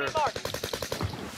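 Rapid automatic gunfire from a shooter video game rattles in a fast, evenly spaced burst, loud and close, with a voice briefly heard at the start.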